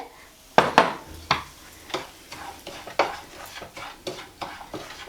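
Semolina (rava) being dry-roasted with urad dal in a pan for idli, with a spoon stirring and scraping against the metal in a steady series of sharp clinks and scrapes, close and clear with no talking.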